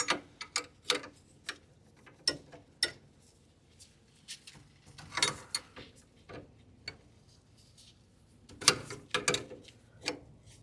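Hydraulic flare fittings are snugged down with a wrench on a John Deere 300 tractor, giving a string of sharp metallic clicks and ratchet ticks in irregular bursts, close and fairly quiet between taps.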